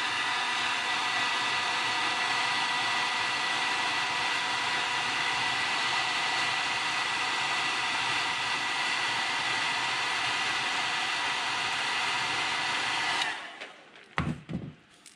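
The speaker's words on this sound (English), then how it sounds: "I'm going to have to do a little heat set" A heat gun blows steadily while heat-setting paint on a custom crankbait, a loud, even whooshing hum up close that cuts off near the end, followed by a few soft handling knocks.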